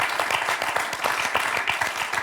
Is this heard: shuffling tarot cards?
no